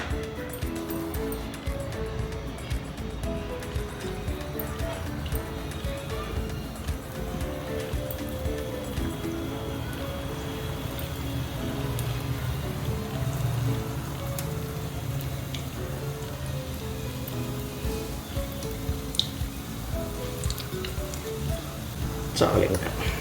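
Punugulu batter dropped into hot oil gives a steady, crackling sizzle that continues evenly, with someone talking over it.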